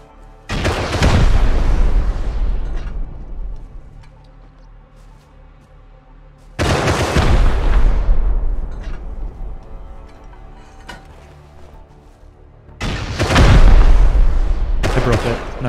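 Three heavy bursts of gunfire from the video game Rust, each a loud broadband crack decaying over several seconds, spaced roughly six seconds apart with quieter ambience between.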